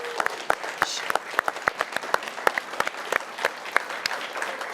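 Sparse hand claps ring out in a TV studio, irregular and fairly close, coming from a small scattered group rather than a thick ovation, with little talk over them.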